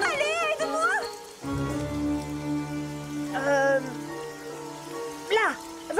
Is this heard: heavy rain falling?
yes